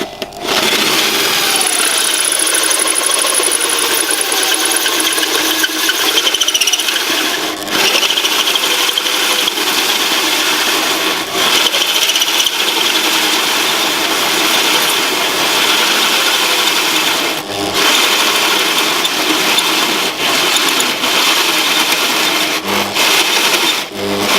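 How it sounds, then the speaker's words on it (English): A drill with an Amtech hole saw grinds steadily and loudly for a long stretch, a harsh continuous whir with a few brief dips in power. "So now start drilling, again slow and steady."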